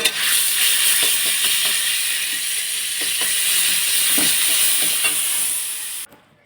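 Ground dankuni leaf paste hits hot oil in a wok and sizzles loudly and steadily for several seconds, close up, then cuts off abruptly near the end.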